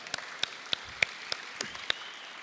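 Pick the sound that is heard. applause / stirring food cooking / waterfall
applause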